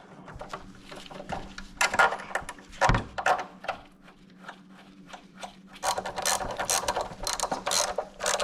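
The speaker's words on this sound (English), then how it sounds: "we're going to torque them to 16 foot-pounds" A wrench ratchets repeatedly while tightening fork bolts on a 1988-2000 Honda GL1500 Goldwing front end, with rapid clicking bursts and clunks near the microphone, loud and close.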